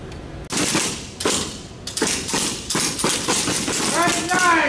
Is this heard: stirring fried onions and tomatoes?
no